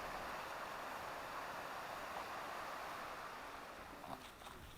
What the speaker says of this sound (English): The river's really moving down here.